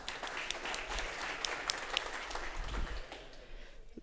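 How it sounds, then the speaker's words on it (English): A conference audience at a DevSecCon security talk applauds a participant, a few seconds of scattered, moderately loud clapping with some sharper individual claps, fading out toward the end. "give her a round of applause for that."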